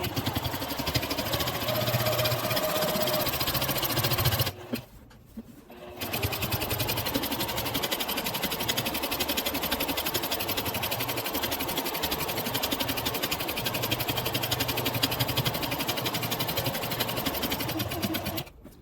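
A sewing machine stitching quilt binding in a long fast steady whir of needle strokes, close and loud, pausing briefly once before running on again.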